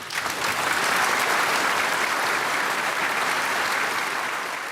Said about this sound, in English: Everybody was applauding, and nobody was stopping.